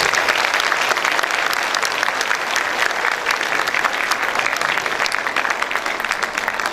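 A crowd at an evening assembly celebrating the 168th birthday of Bhagwan Dev Atma breaks into sustained, loud applause. Thick, even clapping continues without pause for the whole stretch.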